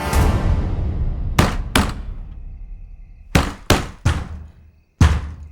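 Someone bangs hard on a wooden door in a tense scene, loud heavy thuds in uneven bursts: one, then a pair, then a cluster of three, then a final blow, each ringing out into quiet.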